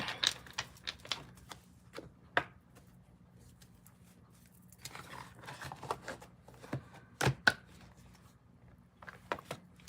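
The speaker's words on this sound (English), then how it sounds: "Give us some cards for the collective. One full shuffle." Tarot cards are shuffled in irregular bursts of crisp taps and riffles, with quiet pauses between, close up.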